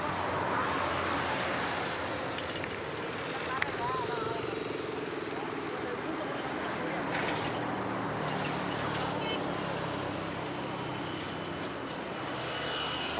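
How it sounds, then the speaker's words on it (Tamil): Floodwater pours along a street in Sholinganallur, Chennai, during Cyclone Nivar, making a loud, steady broadband rush that holds without a break for the whole stretch. "தண்ணி அவ்வளோ போகுது."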